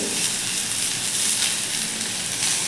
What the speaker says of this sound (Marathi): इकडे आपला कांदा देखील छान असा भाजून होत आहे